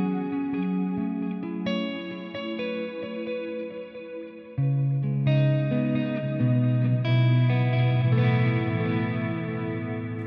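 An electric guitar played through a Line 6 HX Stomp with a soft reverb: melodic notes and chords ring out with a gentle tail that lets them blend together, and the playing gets fuller partway through. It is clear and close, with no talking.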